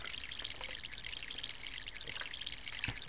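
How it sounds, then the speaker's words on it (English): Water pours steadily onto a freshly replanted tree in the video game My Sims, a continuous bright trickling stream with small splashy drips, close and fairly quiet, with no talking. "And we water it"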